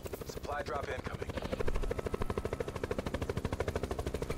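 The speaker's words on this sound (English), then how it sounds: "No look at a goddamn helicopter." Helicopter flying in Call of Duty Blackout, a loud, steady, rapid rotor chop with an even rhythm throughout, and people talking over it early on.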